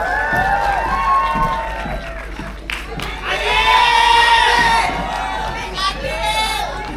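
Crowd at a film gala premiere cheering and shouting to welcome the cast, a loud, continuous roar of excited voices with whoops and squeals rising and falling, plus a few claps.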